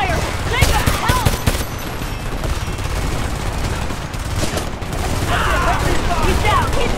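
Heavy gunfire in the shooter video game Homefront, rapid automatic bursts and booming shots rattling nearly nonstop under shouted voices, loud and close throughout.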